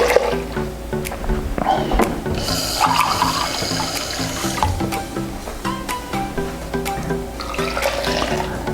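Two cups of water pour into a blender holding plantains and bananas, a steady splashing gush over background music, close and continuous for several seconds.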